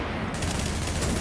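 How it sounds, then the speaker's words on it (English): Gunfire in The Division, fired at an enemy's tank: a dense, continuous burst of rapid shots fills the whole short stretch, loud and close with no pauses. "I'm trying to shoot his tank."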